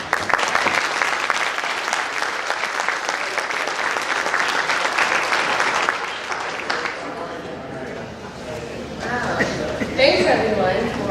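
An audience at the MCLE Spectacular 2017 event claps warmly to welcome a speaker on stage. The sustained, dense applause swells and then thins out, and a voice starts speaking near the end.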